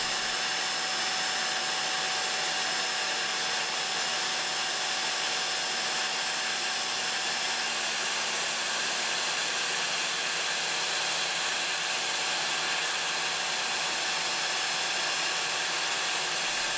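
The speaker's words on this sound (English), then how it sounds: "And what if the airflow of the vacuum is missing too?" A vacuum's airflow runs during a 3D printer test with PETG, a steady, loud, broadband whoosh that fills the whole stretch without change and with no talk.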